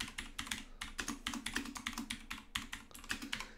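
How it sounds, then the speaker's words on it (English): Clicky keyboard typing rattles along in a steady, quick stream of sharp key strikes, close and fairly quiet, with no voices over it. "Hope you guys enjoy the clicky typing"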